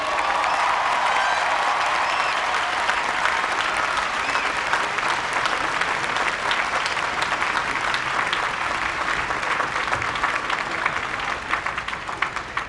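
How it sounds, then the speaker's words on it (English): A large graduation audience applauds after a USC valedictorian speech, a dense, loud, continuous wash of clapping that holds steady for the whole stretch with a little cheering mixed in. "Let's give her one more round of applause."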